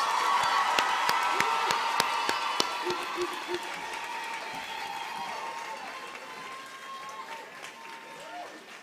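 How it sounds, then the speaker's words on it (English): Applause at a university graduation ceremony in Windhoek, a large audience clapping loudly at first and then thinning out, with scattered cheers and voices mixed in. "Let us give him a round of applause."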